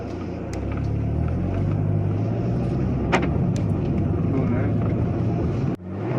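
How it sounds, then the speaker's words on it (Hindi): A Skoda Octavia RS with a 2-litre TSI turbo petrol engine is driven hard on a race track, its engine roaring loud and steady from close by with rising and falling tones and gear changes, until the sound drops off abruptly near the end. "आइए चलाते हैं Skoda Octavia RS on the track."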